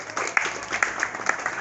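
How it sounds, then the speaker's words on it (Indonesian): Group applause from students at an outdoor sports lesson, a steady patter of many hands clapping with occasional sharper claps, moderately loud. "tepuk tangan untuk kita semua."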